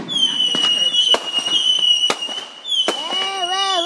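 Fourth of July fireworks burst in a quick series of sharp, loud bangs, with whistling streaks rising and falling between the explosions.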